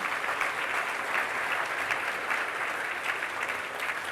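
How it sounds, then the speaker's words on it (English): An awards-ceremony audience claps steadily, a dense wash of applause that holds at an even level throughout. "So give Simon a big round of applause"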